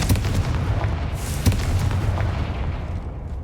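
Confringo blasting spell in Hogwarts Legacy, game-world explosions booming in repeated heavy thuds and crackling bursts over a dense rumbling bed, loud and continuous for a few seconds.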